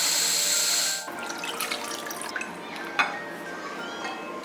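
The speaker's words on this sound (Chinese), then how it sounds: "煮开就把它倒出来洗干净。" Domestic duck meat, blanched with ginger and cooking wine, is rinsed in a kitchen sink: tap water gushes briefly, then splashing, sloshing and light clinks of the meat and bowl follow at close range.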